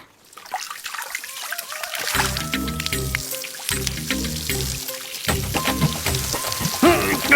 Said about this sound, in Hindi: अरे लग रहा है बारिश शुरू हो गई है।